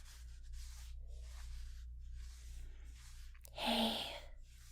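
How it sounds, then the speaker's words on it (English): Hands rub slowly up and down someone's arms in a quiet comfort roleplay, producing soft, close, rhythmic swishing strokes with brief pauses, one slightly louder brushing stroke near the end. "gently rub up and down your arms"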